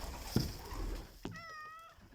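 A single drawn-out cat meow rises clearly near the end, following a brief soft sound; close and fairly quiet.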